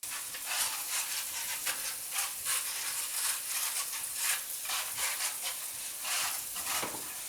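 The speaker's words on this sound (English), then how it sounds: "So we're going to go ahead and give these grapes a quick rinse." Grapes for organic wine getting a quick rinse under water, a continuous splashing, hissing wash with small rhythmic surges, close and fairly loud, no voices.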